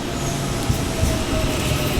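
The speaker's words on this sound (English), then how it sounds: "Arriving at platform 1, there's a Western Line service to Swanson." A three-carriage Western Line commuter train rumbles into platform 1 at a suburban Auckland station, a steady close, loud rolling roar of wheels on rails.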